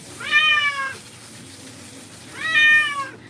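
A wet cat being rinsed during a grooming session gives two loud, drawn-out meows about two seconds apart, with a quiet pause and faint background noise between them.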